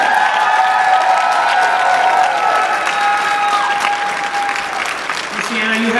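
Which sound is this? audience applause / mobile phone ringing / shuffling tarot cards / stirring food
audience applause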